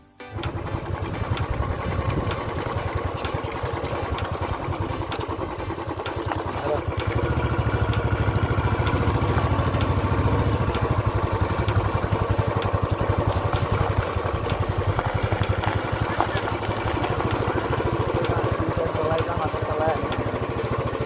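A motorcycle ridden along paths through a tea garden in the evening, its mid-pitched engine droning steadily and close throughout while someone talks over it.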